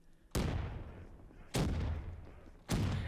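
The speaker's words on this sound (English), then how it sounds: "you have to chuck a bunch of grenades at this to get it to spawn" Three heavy grenade blasts in the Black Ops III Zombies custom map The Ochilion, each a sudden loud boom with a long rumbling decay, spaced about a second apart with no talk.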